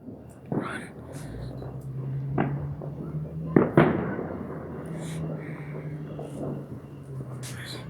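Fourth of July fireworks pop and crack in a few sharp bursts at a family backyard celebration, with one louder bang partway through, while people talk quietly throughout.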